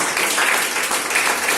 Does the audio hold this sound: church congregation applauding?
yes